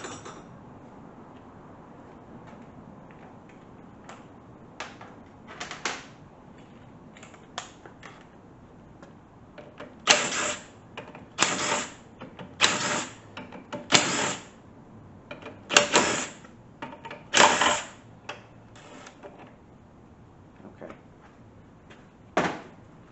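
Bolts are loosened and pulled during an 850RE engine teardown, giving scattered metallic clicks and clanks, then a cluster of louder, sharper knocks and scrapes in the middle, close and without talk.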